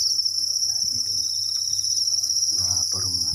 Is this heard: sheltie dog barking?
no